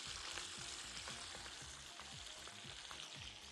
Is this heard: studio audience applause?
no